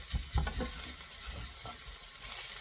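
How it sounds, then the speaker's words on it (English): Italian sausage meat sizzling in a pan while being broken up with a utensil, soft steady frying hiss with intermittent scraping and stirring knocks, close and quiet. "I'm still breaking up the meat."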